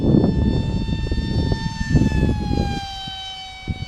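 FT Arrow RC plane with SunnySky 2207 2100kv electric motors flying overhead, a loud sustained high-pitched motor whine with drifting tones, steady and fairly close throughout.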